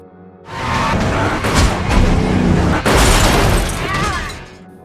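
A movie gunfight with gunfire and explosions rumbles loud and continuous, dense booms and bursts blending into a sustained roar after a brief quiet start.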